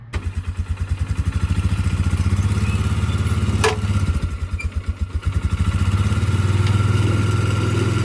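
An engine on a long-rusted old vehicle revs steadily and loudly as one wheel spins freely, a continuous rhythmic drone with clattering over it, rising again toward the end.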